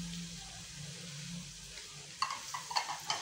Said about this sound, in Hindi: अब मैं इसके अंदर टमाटर का और जो मैंने हरी मिर्चें इसके अंदर वो करके रखी हुई है पेस्ट बना के वो ऐड कर रही हूँ